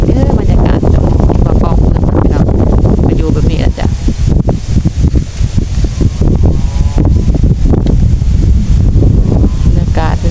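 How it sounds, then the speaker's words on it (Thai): Cool wind blows hard across an outdoor microphone, a loud, constant buffeting roar with gusts, while a person talks underneath. "ลมเย็น"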